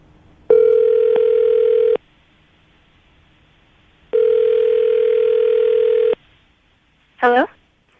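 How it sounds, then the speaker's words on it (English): A telephone call ringing out, two long electronic ring tones separated by a pause, then a short warbling burst as the line picks up, clear and loud with no talk. "we'll dial the number. Hope she answers the phone."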